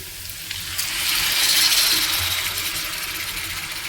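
Lote fish go into a hot pan and fry with stirring, making a bright hissing sizzle that swells and then settles. Soft scraping and clatter run underneath, and there is no talk.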